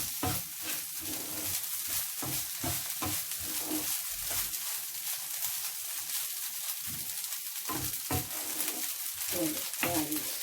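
Egg fried rice frying and being stirred in a pan: a steady sizzle with repeated scraping, clattering stirs throughout, close and loud, with no talking.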